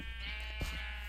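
A sheep in a video game gives one short bleat partway through, heard alone over a steady background hum.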